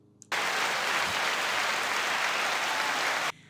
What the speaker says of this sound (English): So let's clap for Isabel.